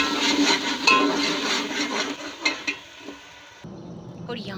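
Ground onion frying in hot ghee, a close, steady sizzle with stirring scrapes and a few pan knocks, which cuts off abruptly near the end and leaves quieter background noise.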